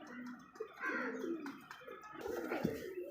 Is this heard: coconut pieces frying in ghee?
no